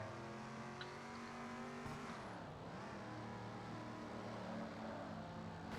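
Engine drone of a car race in a mobile video game, with steady harmonic revving and pitch sweeping down then rising again as the car shifts and accelerates, loud and continuous with no talking.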